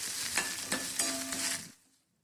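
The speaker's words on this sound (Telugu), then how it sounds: "నూనె వేడెక్కిన తర్వాత పుదీనా ఆకులు వేసి ఒకసారి అంతా బాగా కలుపుకొని వేగనివ్వాలి" Fresh mint leaves sizzle in a spoonful of hot oil while being stirred, with a few close scrapes over the crackle before it quickly fades to silence.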